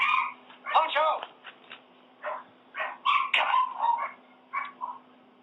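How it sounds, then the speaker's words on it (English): Several dogs bark and yip nearby in short, uneven bursts, with a few whimpering sounds and brief gaps of quiet between them. "every time the dogs bark"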